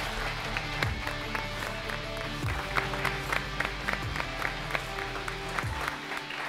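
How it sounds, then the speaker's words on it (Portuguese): An audience applauds steadily at the finale of a Brazilian real estate reality competition, a dense, continuous wash of clapping with a few sharper claps standing out and a low tonal bed underneath. "Só salve de palmas para Carolina."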